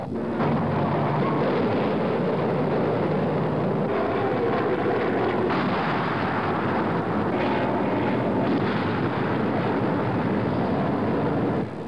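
Loud, continuous roar of military aircraft engines passing over a forest beside a highway during bombing and strafing runs, a broad rumbling wash that swells and shifts without pause.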